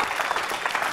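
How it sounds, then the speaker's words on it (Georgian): An audience applauding at a televised show, a brief burst of dense, steady clapping with no voices on top. "კიდევ ერთხელ აპლოდისმენტები თუ შეიძლება."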